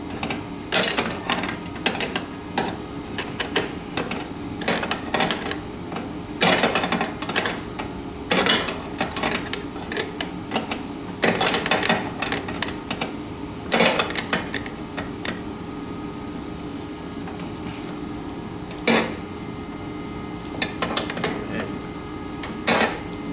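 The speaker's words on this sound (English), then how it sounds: "Just turning the nut." A nut is turned while the paddles are changed on a Toro Power Clear snowblower, giving steady repeated metallic clicks and ratcheting taps in an irregular rhythm over a low hum, close and fairly loud, with no talk.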